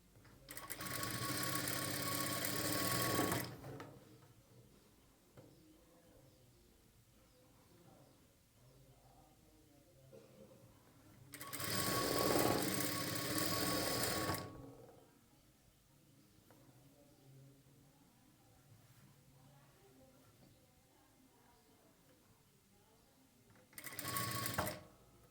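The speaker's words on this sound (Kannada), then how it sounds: "ನಾನು ಸೇಮ್ ದಾರದಲ್ಲೇ ಸ್ಟಿಚ್ ಮಾಡ್ತಾಯಿದ್ದೀನಿ." An electric sewing machine stitching a garment sleeve with matching thread, running in three loud whirring bursts, the first two several seconds long and the last short, separated by long quiet pauses.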